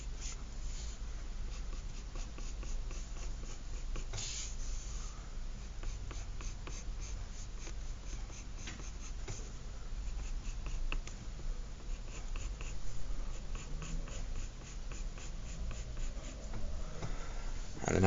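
Pencil sketching an ellipse lightly on paper in an exam-style drawing question: a long, steady, faint scratching of graphite that carries on with little pause, close up, with no talking.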